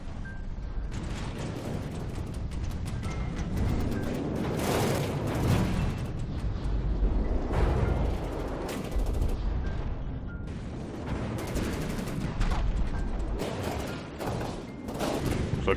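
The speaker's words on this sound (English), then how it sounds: "Immediately explosions are happening." Continuous battle noise from the video game From the Depths: dense booms, rapid gunfire bursts and rumbling blasts, loud and unbroken throughout.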